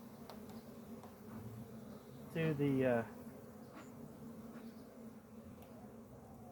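Steady buzzing of honeybees around an open hive fills the background throughout, a dense droning hum, with a brief voice breaking in near the middle.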